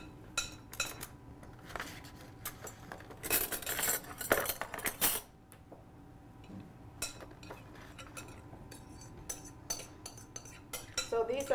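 A spoon clinks and scrapes against a bowl while cake batter is mixed with bananas and oil, coming in quick irregular bursts of metallic taps, busiest in the middle, with quieter stretches between.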